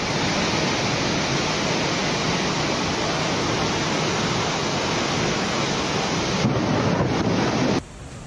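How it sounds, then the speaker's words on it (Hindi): Floodwater from a cloudburst submerges the Tapkeshwar Mahadev temple, giving a loud, steady rushing roar of water that continues unbroken and drops away abruptly near the end. "देखते ही देखते पूरा टपकेश्वर महादेव मंदिर पानी में डूब गया।"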